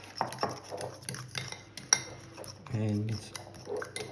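Fork beats eggs and thick kaymak in a bowl, giving quiet irregular scraping and clinking taps, one sharp clink standing out, with someone speaking briefly over it.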